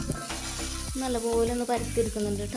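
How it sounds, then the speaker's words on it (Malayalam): Dosa batter sizzling on a hot griddle greased with coconut oil, a steady crackling hiss that runs under someone speaking and faint music throughout. "അതിൽ കുറച്ച് വെള്ളം തളിച്ച് കൊടുത്തിട്ട് കുറച്ച് വെളിച്ചെണ്ണ വെട്ടിയിട്ട് ദോശ മാവ് ഇട്ട് ഒഴിച്ച് കൊടുക്കുവാണ്"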